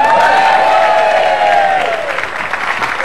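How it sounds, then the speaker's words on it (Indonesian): Loud studio audience applause on an Indonesian television talk show, continuous dense clapping with some cheering, while a sustained musical tone slides downward beneath it. "Tepuk tangan dong."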